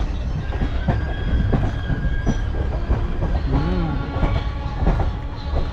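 Kishanganj–Ajmer Garib Nawaz Express running on the rails, heard from inside with rhythmic clickety-clack, repeated wheel squeals and a steady close rumble, with no talk.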